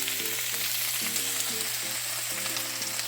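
Potatoes frying in a pan give a loud, steady close sizzle with light crackling throughout, with a faint repeating musical pattern behind and no talking.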